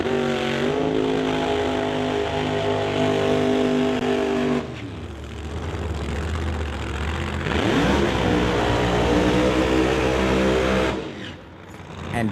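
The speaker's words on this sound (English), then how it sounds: "both of these roots blown Pro Mods come to life" Two roots-blown Pro Mod drag racing cars firing up at a drag strip, loud rumbling supercharged engines idling and revving with harmonic tones, a brief dip mid-clip before the engines surge again.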